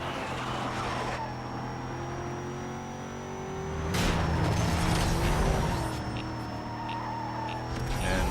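Race car engine from Need for Speed: Most Wanted (2005, PS2), a heavily damaged car driving in a street race, a steady loud engine drone with a surge of revving and road noise partway through.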